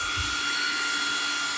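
A Triple S motor in a Hobao VTE RC car on a 4S parallel setup runs at a steady, high-pitched whine with a constant hiss, loud and close, with no pauses over the short stretch.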